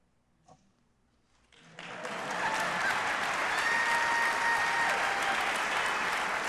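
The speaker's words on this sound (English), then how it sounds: "Let's give Opal, Paul, Principal Roman, and everyone at Melrose School a big round of applause" Applause from a large audience at a state of the State address, starting after a quiet moment and swelling into sustained, dense clapping that holds steady and loud.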